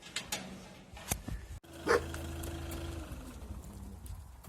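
Several dogs at a dog shelter in Azdavay, Kastamonu, bark in short, sharp bursts at different distances, followed by a drawn-out whining call.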